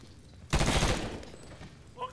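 Burst of rapid gunfire in the Medal of Honor (2010) combat video game, one loud sustained volley that fades over about a second.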